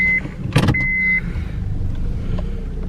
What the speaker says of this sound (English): I'm moving the car closer to the park.